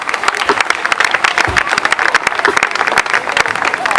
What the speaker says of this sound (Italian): facciamo un altro applauso